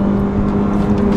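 A Hyundai Elantra N Line engine revs hard toward redline, a loud, steady, strained drone held close for a brief moment with no talk.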